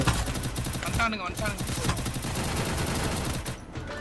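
Rapid gunfire in the Free Fire video game, dense bursts of shots crackling almost without pause, with a voice talking over the shooting.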